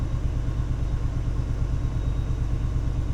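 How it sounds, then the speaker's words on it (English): An MBTA HSP46 locomotive engine in a train simulator game chugs at full power, a loud, steady low rumble with a pulsing beat that runs unbroken. "the engine's got a nice chugging note to it"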